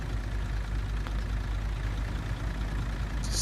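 A DAF heavy truck engine in Construction Simulator idles with a steady low rumble, constant and unchanging, with no voices present.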